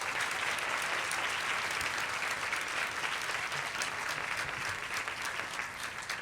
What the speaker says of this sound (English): Can we give another round of applause for our 2026 Women Achievement